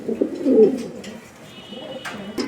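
Soft, low cooing from racer pigeons close by, a rolling murmur that swells and fades, with a faint higher chirp near the end.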